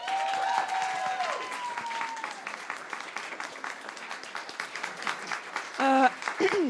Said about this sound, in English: Just applause to yourself